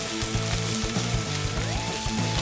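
Onions sauteing in batches in a wok, a steady bright sizzle with rhythmic scraping and clanking of a utensil against the metal, close and continuous with no talk.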